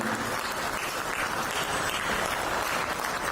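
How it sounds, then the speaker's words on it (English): A standing ovation at a Rotary district governor installation ceremony: a thick, continuous wash of many hands clapping, steady and close throughout the short stretch, with no voices over it. "Please stand up and give him a big applause, standing ovation."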